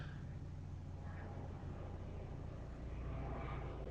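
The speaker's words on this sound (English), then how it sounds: "It's like a low plane." A low-flying airplane passes near a house: a faint, continuous, muffled engine drone holding steady through the whole stretch, with no speech over it.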